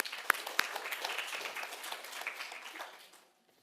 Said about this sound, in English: So please, again, round of applause to introduce Jude.